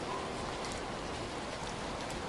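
Heavy rain falling steadily, a dense, even hiss of drops on surfaces with no pauses, close and moderately loud throughout the short stretch.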